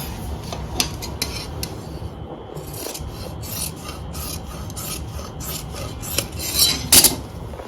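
Scissors cut through kurta fabric in a steady run of short, rasping snips and slides, close and fairly loud, with a brief pause partway and a sharper crunchy cut near the end.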